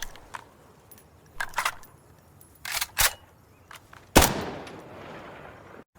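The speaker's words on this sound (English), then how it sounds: "I need to reload!" Weapon reloading in the tactical shooter Insurgency Sandstorm: a handful of sharp metallic clicks and clacks spaced across the moment, ending in a louder mechanical snap with a brief ringing tail, no voices.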